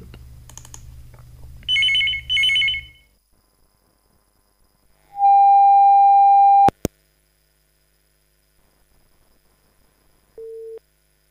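A telephone rings twice in short warbling bursts, then a long steady tone sounds, followed by a click and a brief lower beep, as a caller joins a live radio phone-in programme.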